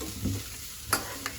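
Tempering seeds and peanuts fry in a pan with a soft, steady sizzle and a few faint clicks from stirring, heard up close with no talking.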